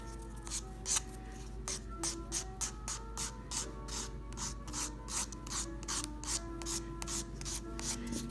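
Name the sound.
filing a nail to roughen it before applying gel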